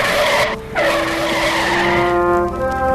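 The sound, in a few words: truck skidding to a stop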